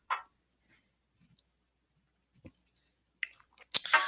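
Mouse clicks on a computer while working in an email marketing web platform, a few scattered sharp clicks followed by a denser burst of clicking and tapping at the end, with no talk.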